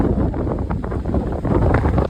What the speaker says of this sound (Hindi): हवा चल नहीं रही थी, हमें थप्पड़ मार रही थी।